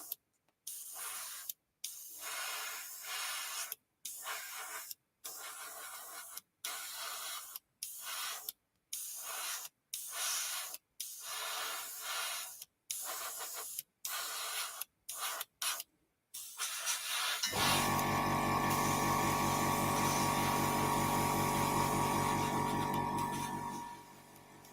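An airbrush sprays a coat of black paint onto a model in a string of short, even hissing bursts with brief gaps between them. Then a louder, steadier hiss with a fainter hum underneath runs for several seconds and fades out.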